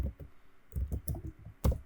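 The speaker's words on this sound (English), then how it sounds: "I'm going to type phone number here" Keys clatter on a computer keyboard as a phone number is entered, a quick, irregular run of close clicks with short pauses and no talk.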